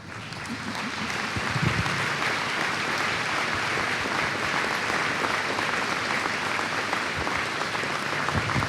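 A commencement audience at a law college claps for the faculty, a loud, dense, sustained wash of applause that swells in the first second and holds steady to the end, with no talking over it.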